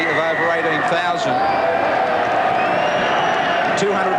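A rugby league crowd of over 18,000 Canberra Raiders supporters at a 1989 match against the Brisbane Broncos lets out a steady, ironic cheer, a broad distant roar running underneath continuous commentary.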